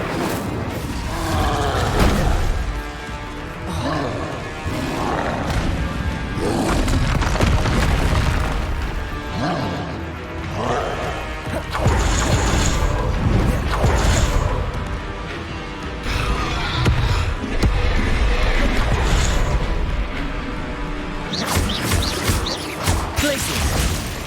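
Spell blasts and explosions from the video game Hogwarts Legacy, with loud, dense booms, crashes and bursting pops following one another almost continuously, alone and close.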